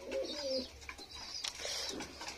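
Pigeons on a hot rooftop, including black lakka pigeons, coo in low repeated murmurs at close range, with a few brighter chirps and rustles around them and no talking.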